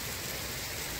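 Heavy rain pours down during a morning walk, a dense, even hiss of falling water that fills the whole moment without a break.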